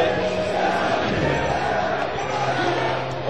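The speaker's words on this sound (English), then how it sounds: "The West Coast crowd is going nuts." A large tournament crowd at a Super Smash Bros. Melee event in Anaheim roars and chants steadily for a few seconds, a dense, sustained wall of cheering voices filling the hall.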